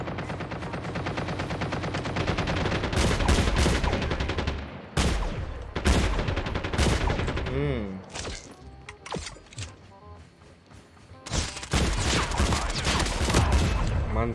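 Rapid bursts of video game gunfire, loud and close, with bouts of automatic fire broken by short pauses and a few single shots; includes the J358 pistol.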